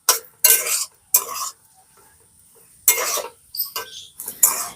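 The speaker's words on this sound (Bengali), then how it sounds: "এবারে দু তিন মিনিট মতন খুব ভালো করে এটাকে মিশিয়ে নিয়ে নাড়াচাড়া করে নিতে হবে" Potato samosa filling is stirred in a pan to dry it out, several bursts of scraping and clinking of a spoon against the pan separated by short near-silent pauses, close up.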